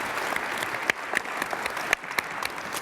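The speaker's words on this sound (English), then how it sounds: "Let's give a round of applause." An audience applauds after a session at the BC Tech Summit conference, steady moderate clapping filling the room with a few sharper claps standing out.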